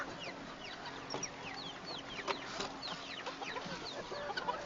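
Chickens cluck and chatter continuously inside a cage, with a mix of overlapping soft clucks and sharper calls at close range, set against a low background hum.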